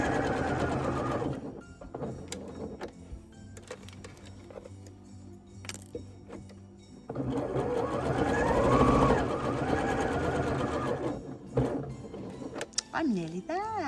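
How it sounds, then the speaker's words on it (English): Sewing machine stitching up and down the points of a fabric winter crown, running in bursts with pauses as it pivots at the corners, close and steady, with someone talking between runs. "We're sewing up and down the points of the crown."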